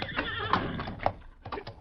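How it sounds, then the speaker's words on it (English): A horse whinnies in short, shaky bursts, and a few hoof clops sound nearby in a brief old-time radio adventure scene. "Him leave horse over there, Kimasabi."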